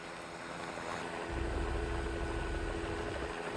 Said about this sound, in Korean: 소방 헬기가 구조의 손길을 내밀고 있습니다